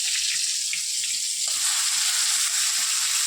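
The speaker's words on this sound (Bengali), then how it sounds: "এই কারকোল ওর জন্যই ভাজছি" Sliced spiny gourd (kakrol) fries in hot oil, giving a constant, fairly loud hissing sizzle with faint low knocks underneath and no speech.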